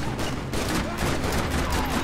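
Rapid gunfire from the Max Payne 3 video game, a dense, loud burst of overlapping shots that runs without pause and drowns out everything else.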